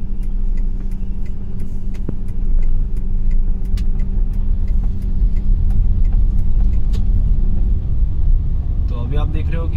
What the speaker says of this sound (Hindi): तो अभी आप देख रहे हो कि 20 के आसपास पहुंचने के बाद मैं सेकेंड गियर डाल रहा हूँ।